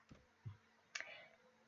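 A computer mouse gives a few soft, scattered clicks in a very quiet room, with one slightly sharper click near the end.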